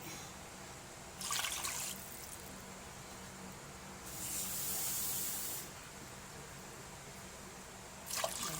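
Water pours into a pot for mudfish soup in short bursts, a faint background hum between three separate hissing splashes, the middle one longest.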